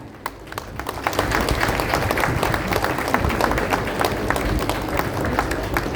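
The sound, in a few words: audience applause at a ceremony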